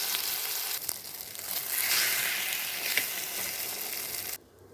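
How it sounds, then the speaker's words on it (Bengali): An egg dropped into hot oil in a pan fries with a loud, continuous crackling sizzle that swells briefly, then cuts off abruptly at the end. "তেল দিয়েছি, এবার ডিমটা দিয়ে দেবো।"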